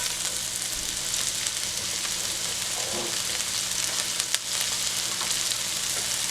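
Onion and scallion fry in oil in a hot pan, giving a steady, close sizzle and crackle that runs throughout with a brief stir partway, and no voices.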